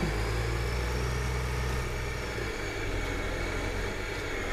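Tractor engine in the video game Farming Simulator 2013, a steady low droning hum that idles evenly and close with no talking over it.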